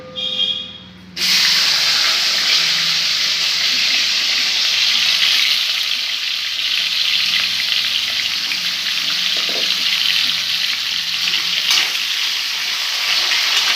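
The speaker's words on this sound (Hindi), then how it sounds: "और पहले डालूंगी मैं आलू, क्योंकि आलू को थोड़ा सा पका लेंगे।" Potatoes dropped into hot oil in a pan burst into a loud, steady sizzle after a brief quieter moment, then keep frying evenly with faint stirring clinks.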